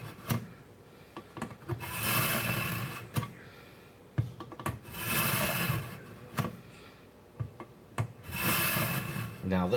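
Kitchen knife drawn across a ceramic finishing stone, repeated long rasping strokes in a steady back-and-forth rhythm, close and fairly loud, with short clicks and taps between passes.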